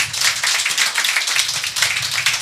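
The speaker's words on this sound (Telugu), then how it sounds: "గట్టిగా చప్పట్లు కొట్టాల" A church congregation claps loudly together in a fast, steady rhythm of sharp, bright claps that carries on without a break, with no talking.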